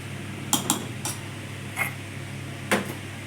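A spoon stirs vegetable rice with peas in a metal pot, giving several separate clinks and scrapes at an uneven pace over a low background hum.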